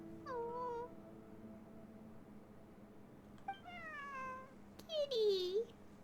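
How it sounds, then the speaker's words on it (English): A cat meows in the video game Genshin Impact, several drawn-out, rising and falling mews spaced apart, close and clear over a quiet hum, with a longer, louder plaintive cry at the end. "Kitty."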